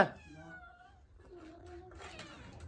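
A cat meows twice near fresh stream fish being cooked on a wood-fired stove in a rural Indian home, a long drawn-out wavering cry followed by a second rising meow, close by with quiet background noise.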